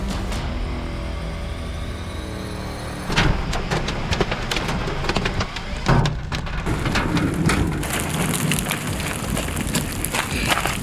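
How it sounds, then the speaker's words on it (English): Storm rain in the Kansas and Texas Panhandle region pours steadily, first as a soft hiss, then louder with sharp clattering impacts like hail or heavy drops striking a vehicle from about three seconds on. "Got some rain right now."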